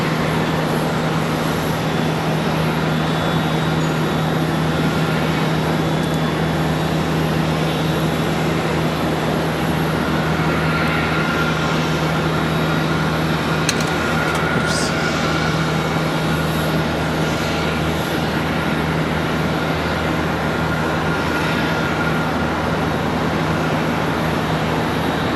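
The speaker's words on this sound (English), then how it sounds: "is going to be Piedmont Airlines coming in from Chattanooga, Tennessee" Piedmont Airlines Embraer ERJ 145 arriving at Charlotte Douglas airport, a continuous loud engine drone with a steady low hum and broad roar throughout, no talk.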